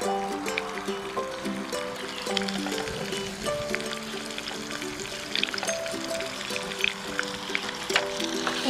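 Wild saffron milk caps and parasol mushrooms fry in a pan with a steady, soft sizzle that runs the whole time beneath continuous background music.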